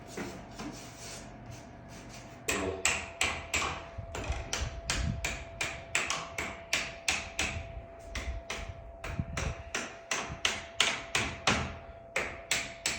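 Tools are tapped in behind a large glued bathroom mirror with a series of sharp, close knocks, starting sparse and then falling into a fairly even rhythm of repeated strikes under a faint steady hum.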